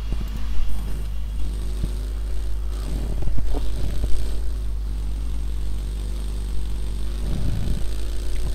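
A vehicle drives in the mobile game PUBG on the Erangel map, its engine a steady, loud low drone with a wavering pitch and occasional thumps and bumps, running without a break and with no talk over it.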